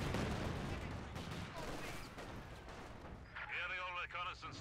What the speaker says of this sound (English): An artillery bombardment going in here.